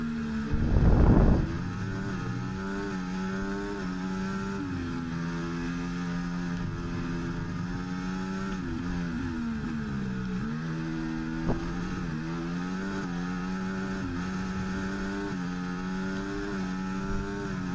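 F1 race cars in the F1 24 game at the Australian circuit, engines droning steadily with harmonic whine rising and falling through gear changes, one car chasing a Ferrari, a brief louder burst near the start.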